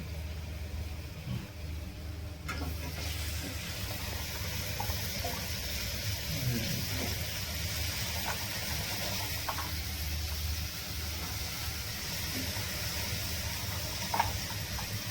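Wild kartoli vegetables hit hot oil already holding fried spices, giving a steady soft sizzle and hiss that continues evenly after a sharper onset, close and moderately quiet.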